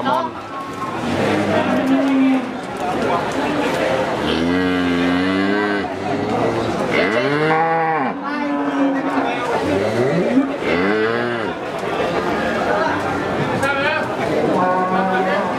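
Lemon-colored Pegon cattle bellow in long, overlapping moos at a crowded rural cattle market, several calls close and loud amid constant chatter and people talking.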